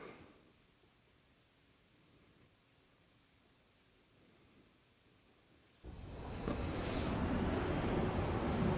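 Fighter jet engine in the Ace Combat 7 flight game, a quiet airy hum at first that abruptly swells into a loud, steady roaring rush of jet noise for the final few seconds.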